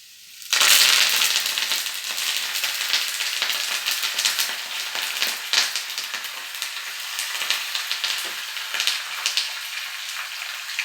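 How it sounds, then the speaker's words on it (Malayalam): Curry leaves drop into hot oil with a sudden loud burst of crackling and spitting, settling into a sustained, popping sizzle close by. "കറിവേപ്പില ഇടുമ്പോൾ ഒരു ശബ്ദം വരുമല്ലോ"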